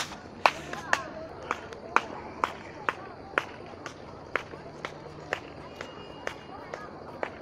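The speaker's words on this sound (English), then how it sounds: "I'm gonna walk and clap my hands really loud" Sharp, loud hand claps repeating at a steady walking pace, about two per second, with footsteps and faint murmuring underneath.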